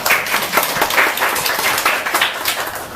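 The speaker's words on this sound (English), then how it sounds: "let's give her a round of applause." A room of workshop attendees gives a round of applause, many hands clapping in a dense, lively patter that stays loud and steady throughout.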